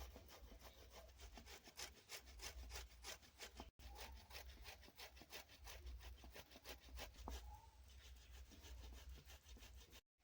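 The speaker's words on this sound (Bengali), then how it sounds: "আলু আর কলাগুলোকে গ্রেট করে নিলাম" Raw potatoes and green plantains are grated by hand, producing a steady, rhythmic rasping of repeated back-and-forth strokes, fairly soft and close, with no talking over it.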